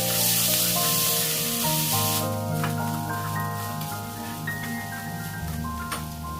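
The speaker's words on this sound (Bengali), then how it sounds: "এই গোবিন্দভোগ চালটা যখন আমি ঘির মধ্যে ভাজছি" Gobindobhog rice frying in ghee in a pan, a bright hissing sizzle that starts loud and settles into a steadier crackle, with sustained tonal hum underneath and no talk.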